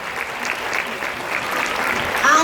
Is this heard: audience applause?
yes